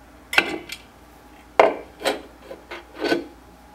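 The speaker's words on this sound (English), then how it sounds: "Then I'm going to remove the cap." The cap comes off a 700TVL security camera, a few short scraping and clicking contacts spaced irregularly, close and fairly quiet with no voices.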